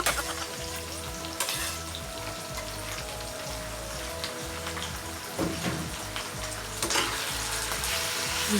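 Squid hitting a hot pan for Filipino adobong pusit sa gata, sizzling and frying loudly and steadily, with a few stirring scrapes and clatters along the way.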